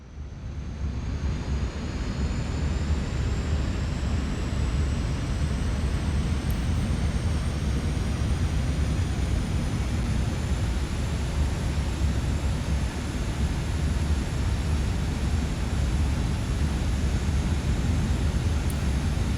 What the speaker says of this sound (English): First of all, we got to direct the plane in.